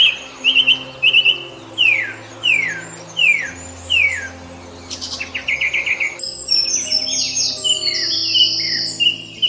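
Song thrush singing: repeated bright whistled phrases and rapid chirping trills in distinct bursts, close and clear, over a faint low background hum.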